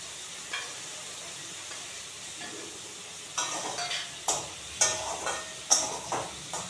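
Onion sizzling in a pan with chilli powder, chilli paste and coriander leaves added. A steady fry hiss swells into loud, rhythmic stirring scrapes and spattering bursts, close up, with no talking.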